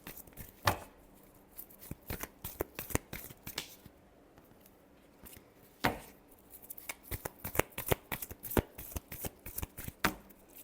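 Tarot cards being shuffled by hand, a steady run of crisp riffling and slapping bursts with brief pauses, close and continuous, no voices.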